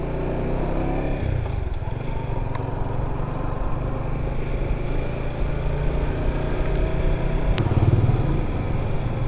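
A new Honda Supra GTR 150 motorcycle engine runs steadily with a low, continuous drone, near and fairly loud, rising slightly toward the end with a brief sharp click.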